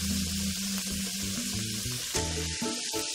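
Onions sizzling and frying in a pan for beef stroganoff, a steady close crackle with soft stirring clatter throughout.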